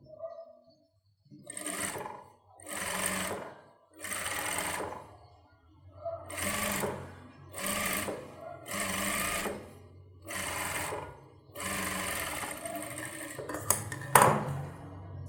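A sewing machine stitches a folded seam on a child's silk pavadai in about nine short, evenly spaced bursts of fast whirring, with brief pauses between them and a faint clink near the end.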